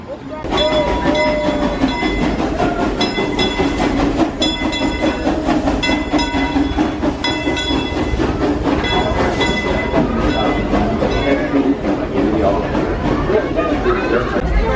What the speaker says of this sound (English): I think it is time to hop aboard the train.